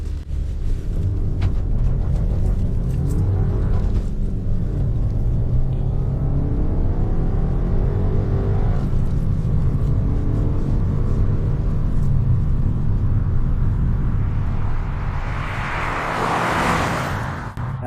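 Engine of an Alfa Romeo 159 TBi 1.8 with light tuning, a continuous deep rumble heard from inside the car as it pulls through the gears, with the pitch rising and falling under load and no talking.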